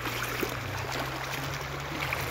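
Clear water flows in a ranch creek being crossed on foot, a soft continuous trickling and babbling with a low steady hum beneath, fairly quiet and with no talking.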